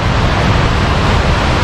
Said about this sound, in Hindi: साथ बहुत तेज़ स्ट्रीम गुजर रही है जो कि चिटागटा लेक से निकल के आ रही है।